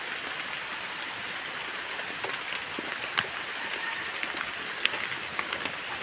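Rain falls steadily in a rural hillside area, a continuous soft hiss with scattered sharper drips and taps on surfaces, moderately faint and without voices.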